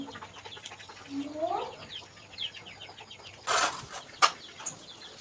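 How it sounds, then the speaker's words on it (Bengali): Faint, scattered chicken clucks in the background, with a brief flurry of flapping wings and a sharp rustle partway through, among backyard ducks and chickens. "এগুলো হচ্ছে আমার হাঁস মুরগি"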